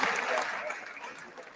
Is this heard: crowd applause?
yes